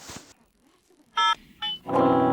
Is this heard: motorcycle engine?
no